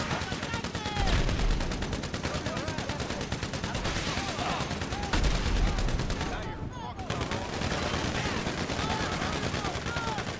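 Enemies in the video game GTA open fire in rapid, overlapping bursts of automatic gunshots, a dense, loud barrage that continues without pause, briefly thinning before the shooting resumes.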